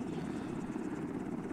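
MH-60L Black Hawk helicopter in the Arma 2 game, a continuous close rotor thump and turbine whine holding steady at a moderate level with no talk.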